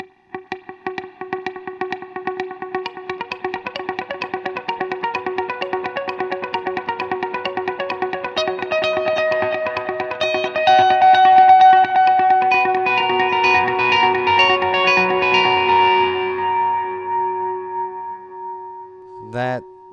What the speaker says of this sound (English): it can also do different note values, and here's the popular dotted 8 setting